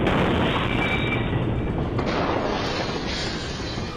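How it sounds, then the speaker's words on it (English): A bomb explosion in downtown Nashville comes through as a heavy, sustained rumbling roar, loud and continuous with a slow fade over several seconds. "An explosion rocked downtown Nashville."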